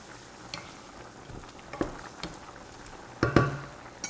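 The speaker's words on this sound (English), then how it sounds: "you're just gonna keep whisking this pretty vigorously" Whisk stirring Alfredo sauce with salt and garlic powder in a pan over heat, soft irregular scraping and clinking strokes over a low sizzle, growing louder toward the end, no voices.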